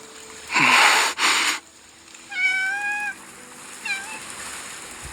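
A cat meows in the video game Love and Deepspace, two short, clear, close meows spaced about a second apart, following a brief breathy rustle; no talking is heard.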